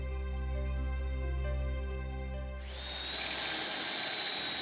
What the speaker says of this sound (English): is drilling a test hole